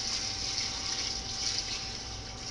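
Water pouring steadily from a tap over vegetables in a pot for Hungarian savoy cabbage and potato stew, a soft continuous rushing hiss at low volume with no talking.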